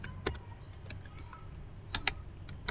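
Keys clacking on a computer keyboard while a ufw firewall command is entered on an Ubuntu 16.04 system, a few scattered keystrokes with sharper clustered taps near the end, close and fairly quiet.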